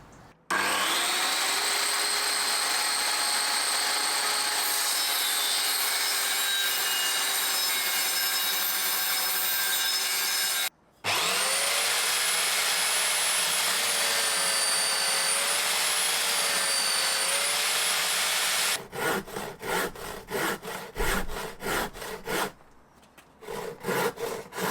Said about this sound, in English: we'll get the circular saw on this